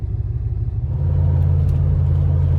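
Modified V8 Range Rover on 33-inch tyres with a 2-inch suspension lift cruising the highway, a steady low engine and road rumble that swells after the first second and holds evenly.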